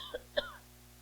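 Two short coughs or throat-clears, the second sharper and louder, from a person nearby in a quiet room, followed by faint steady hum.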